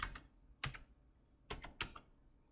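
Computer keyboard keys clacking in a few quick clusters while a database command is typed, close and clear in a quiet room with no one talking.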